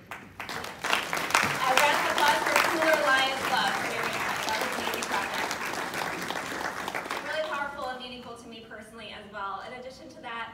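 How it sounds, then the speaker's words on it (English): An audience applauds a Lions Club project at a Lions gathering, steady dense clapping filling the room for several seconds before thinning out, with voices emerging beneath as it fades. "A round of applause for Cutuli Lions Club for doing that."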